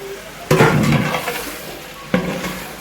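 Ground spice paste frying in a pan while being stirred, a continuous sizzle punctuated by two sharp scraping strokes, close and fairly loud.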